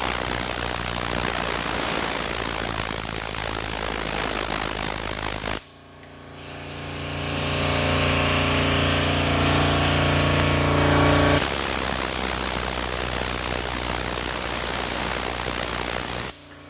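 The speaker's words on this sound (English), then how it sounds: "We'll get the air blower here. Blow gun." An air blow gun hisses loudly against a car panel during wet sanding and compounding, a harsh broadband rush that starts and stops in separate bursts over a background hum.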